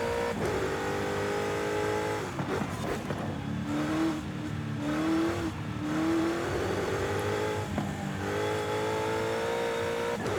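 A limousine in the racing game Forza Horizon 5 driving a mountain touge road, its engine revving up and down through gear changes with steady droning, close and continuous with no talking.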